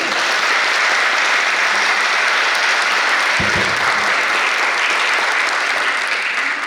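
An audience applauds warmly at a university book presentation ceremony, a thick, even sound of clapping that carries on for several seconds without speech.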